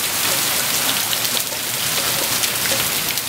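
Heavy rain with marble-sized hail pours onto a flooded Las Vegas street, a loud, steady hiss dense with sharp patters and ticks throughout, with no voices.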